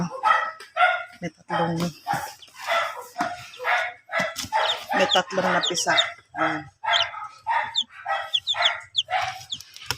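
Chickens and newly hatched chicks in a brooding pen on a small farm: busy, close high peeping and chirping mixed with clucks, almost nonstop.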